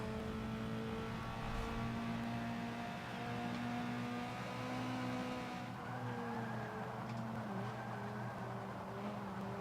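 A Subaru BRZ race car in the Forza 5 racing game, tuned for B class, its engine holding a steady high drone while accelerating, with pitch shifting at gear changes partway through.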